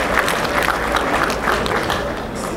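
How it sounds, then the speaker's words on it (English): Sustained audience applause from a crowd at a national association convention, dense and steady throughout, moderately loud with no talk over it. "Another round of applause for her."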